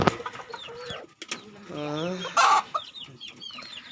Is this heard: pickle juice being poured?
no